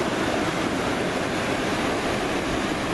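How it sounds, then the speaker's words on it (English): Clear, ice-cold water runs over rocks through little shallow rapids, a dense, even rushing roar heard up close and unbroken throughout. "Down by these little rapids right here"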